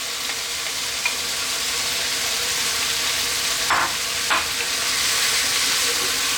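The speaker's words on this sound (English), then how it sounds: "Then we're going to drop in our tomato." Tomato dropped into a hot pan for a baked meat sauce pasta, giving a steady close sizzle and frying hiss throughout, with a couple of brief stirring scrapes partway through and no talk.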